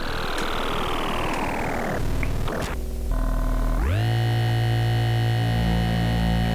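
Dry Piston Honda oscillator on a modular synth, a loud buzzing tone that sweeps and glitches at first, then settles into a steady sustained pitch with no voices.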